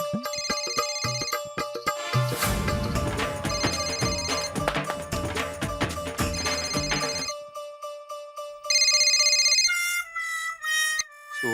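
A telephone ringtone plays loudly and melodically over several seconds, with a dense musical passage first and then bright repeating rings near the end, with no talking.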